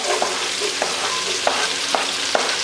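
Garlic fries in a pan under a steady, dense sizzle while a utensil scrapes it around in light, regular strokes about twice a second, with no talk.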